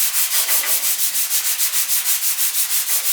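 Rhythmic hand sanding on the bodywork of an abandoned Ford Escort Mk2 rally car under restoration, steady back-and-forth rasping strokes about four per second, close and fairly loud with no talking.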